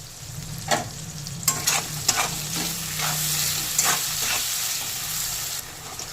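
Chopped onion with whole garam masala and bay leaves fries in hot oil, a steady close sizzle broken by several sharp scraping stirs of a spoon in the pan.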